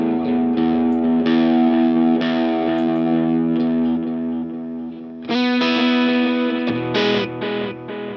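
Electric guitar notes played through an Empress Superdelay pedal ring out with a delay effect, echoes trailing and overlapping after each pick, with a sudden brighter burst of strummed notes near the end.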